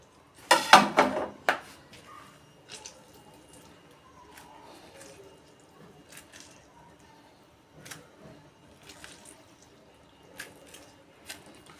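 Lemon squeezed and dripped onto seasoned meat in a kitchen: a cluster of wet squishes and splashes against a bowl up close, then sparse soft drips and light clinks, with quiet talking in between.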